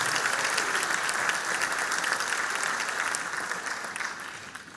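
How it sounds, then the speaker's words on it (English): Dense audience applause fills the hall after a school combined-bands spring concert, steady and full at first, then gradually thinning and softening toward the end. "Give them a round of applause"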